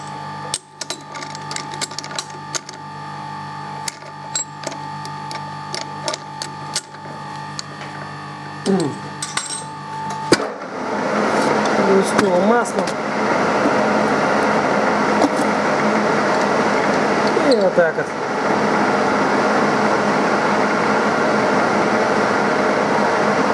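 Rolling the second side of a part after the nuts are fitted, during restoration of a Reinecker gear hobbing machine: a steady, loud mechanical rolling drone starts abruptly about halfway through and runs continuously to the end, with no talking.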